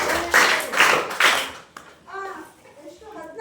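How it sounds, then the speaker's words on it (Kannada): A classroom of eighth-grade students gives a short burst of clapping, loud and close for about a second and a half, then it stops abruptly and children's voices and chatter continue. "ಅವ್ರಿಗೆ ಚಪ್ಪಾಳೆ ಹಾಕಿ."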